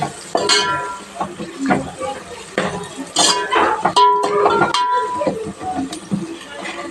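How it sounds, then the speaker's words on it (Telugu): Curry leaves and onions frying in a pan for borugula uggani (puffed rice dish), with clinking of a utensil against the pan and soft sizzling, intermittent stirring clatter and a voice speaking over it. "కరివేపాకు వేసుకొని ఇలా ఫ్రై చేసుకుందాం"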